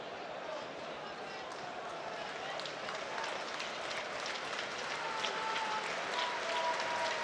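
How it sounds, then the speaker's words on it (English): Football stadium crowd at Sunderland applauding in the 87th minute as a tribute to Charlie Hurley, a broad, distant wash of clapping that swells slightly, with a commentator talking over it. "a round of applause goes out in the 87th minute for Charlie Hurley"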